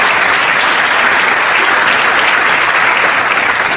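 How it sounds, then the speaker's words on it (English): A loud round of applause from a town hall audience in Maryland, dense and continuous clapping that runs unbroken from start to finish. "Can we give all of them another round of applause, please"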